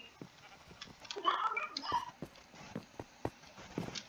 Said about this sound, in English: So now I have all the wool I could possibly want, all in one sheep.